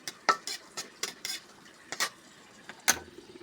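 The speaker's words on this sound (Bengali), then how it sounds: "এই জন্য আমি শুকনো মরিচটাকে ভেজে নিচ্ছি" Dried red chillies frying in a pan for a mash, heard as a string of close scraping stirs and light clatters against the pan over a faint sizzle.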